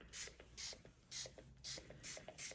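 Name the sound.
Shimmer Spray bottle spraying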